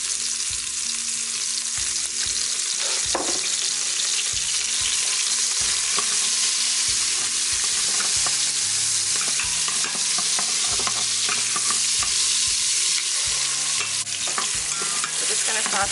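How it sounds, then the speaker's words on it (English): Onions sauté in oil in an Instant Pot, a dense continuous sizzle broken by frequent scraping stirs of a utensil against the pot, close and loud with no talking. "then we're going to throw in the onions and get these sauteed up."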